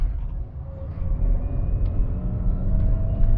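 Great Wall Wingle campervan being driven, its engine droning steadily with a whining, noisy gearbox, a constant low rumble from inside the cabin without speech.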